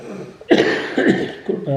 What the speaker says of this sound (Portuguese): que eu tenho andado estes dias todos a tossir